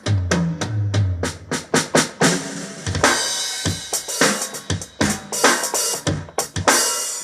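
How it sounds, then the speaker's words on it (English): Punchy electronic drum hits from a Yamaha MX49 keyboard play a steady, busy beat of kicks, snares and hats, loud and close with no voices. "so we'll do some drums down on this end"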